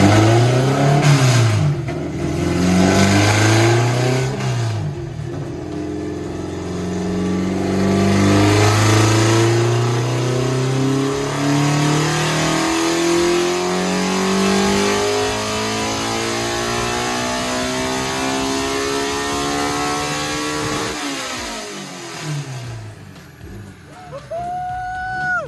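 A Toyota AE86 with a 4AG engine, muffler removed, revs hard on a dyno: a loud rasping engine climbs steadily through the revs over long pulls, then drops back to a lumpy idle near the end.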